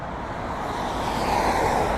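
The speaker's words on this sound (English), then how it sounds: "It's going to be noisy because it's right on the highway." Steady highway traffic rushes past a roadside classic car lot, a broad continuous roar of passing vehicles that swells slightly, with no voices.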